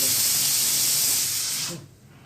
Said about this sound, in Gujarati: ટમેટા નાખ્યા છે વઘારમાં